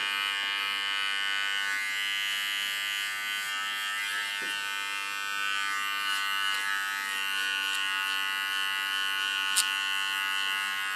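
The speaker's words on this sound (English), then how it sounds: "With a small clipper I clean the contour line." A small electric hair clipper buzzes steadily at close range while cleaning up a haircut's contour line, a continuous whining hum with slight shifts as it moves along the hairline.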